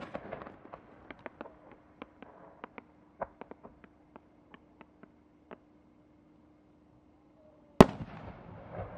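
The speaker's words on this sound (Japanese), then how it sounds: "新作花火点滅七変化、カラフルな点滅を使用した玉を製作しました。" New firework shells with colorful blinking effects from Horiuchi Fireworks of Nagano, heard as a run of sharp crackling pops over a low steady hum, then one loud close burst near the end.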